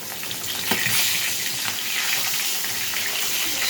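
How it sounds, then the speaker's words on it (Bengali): Fish fries in oil in a wok with a loud, steady, hissing sizzle, a few light clinks and stirring sounds near the start, and no voices. "এদিকে অন্য একটা কড়াইতে মাছ ভাজতে বসিয়েছি।"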